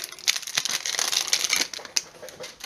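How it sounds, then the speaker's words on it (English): A knife dices mozzarella cheese on a cutting board for pasta salad, with a rapid run of close, crisp tapping chops and a few sharper knocks, with no talking. "now we're going to dice our mozzarella to put in the pasta salad."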